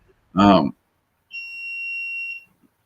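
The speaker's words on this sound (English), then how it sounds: "there was a loud beep and I'm not quite sure what that was" A short spoken sound comes first, then a single loud electronic beep holds a steady high tone for about a second before cutting off into silence.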